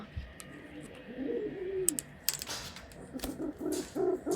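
Soft low pigeon coos repeat through a quiet, enclosed loft, with a few sharp clicks and knocks scattered among them.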